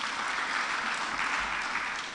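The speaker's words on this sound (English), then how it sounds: "Give him a hearty clap," Audience clapping for a general at a Nairobi city climate action plan meeting, an even, continuous round of applause from a seated crowd lasting about two seconds.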